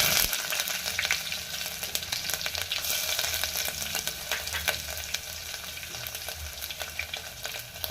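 Cumin, dry red chillies, ginger and garlic pieces frying in hot oil after mustard seeds, a dense crackling sizzle that stays steady from start to finish with light stirring taps, close and unaccompanied by speech.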